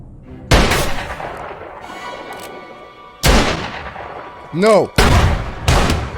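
Gunshots from the western film Open Range ring out as several loud, sharp separate cracks with echoing tails, separated by quieter stretches, and a voice speaks briefly between them.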